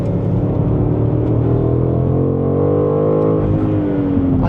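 2025 BMW M5 Touring with filters muffling its exhaust: a steady, muted engine drone with a low rumble and rising harmonics as it accelerates, close and continuous, with no talking.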